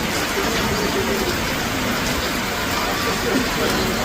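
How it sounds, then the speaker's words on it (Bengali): Heavy rain pours steadily over a local railway station platform in Chandpur, a dense, unbroken hiss that fills the whole stretch at an even, fairly loud level. "ঝুম ঝুম বৃষ্টি ঝরতেছে, দারুণ পরিবেশ।"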